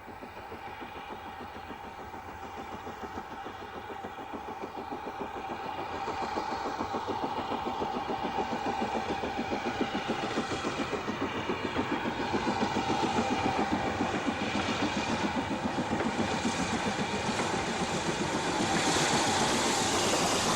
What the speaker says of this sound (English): The original design of the BR4s is clearly seen on the Bluebell Railway, where 75027 was filmed on a freight train